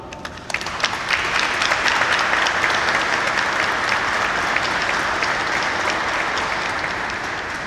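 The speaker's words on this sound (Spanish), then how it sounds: "un fuerte aplauso" Loud, sustained applause from an audience filling a cathedral, a dense wash of many hands clapping that holds steady for several seconds and fades slightly toward the end.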